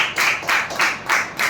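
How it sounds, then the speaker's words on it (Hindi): An audience claps loudly in a hall, with four or five surging waves of dense, close applause across a brief stretch. "जोरदार ताली होनी चाहिए।"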